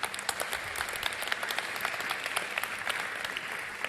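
Large audience at a Lagos event applauding a guest with a thick, continuous patter of many hands clapping, moderately loud and steady throughout, with no speech.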